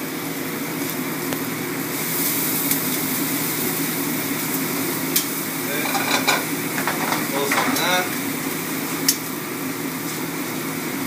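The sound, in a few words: mushrooms, shallots and garlic sautéing on high heat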